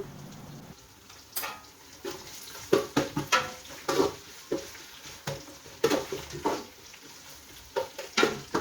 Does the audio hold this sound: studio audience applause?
no